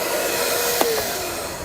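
A power sander whines loudly and steadily at close range, a constant motor roar with a brief knock partway through.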